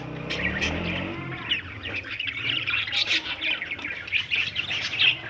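Zebra finches chirp in a cage with rapid, repeated high tweets and short calls, moderately close. Faint low handling rumble sits beneath the chirps at the start.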